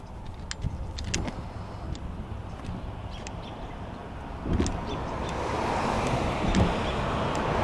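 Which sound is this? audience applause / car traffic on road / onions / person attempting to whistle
car traffic on road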